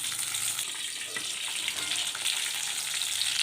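Brinjal fries in hot oil with a dense, constant crackling sizzle, loud and close, with no talking.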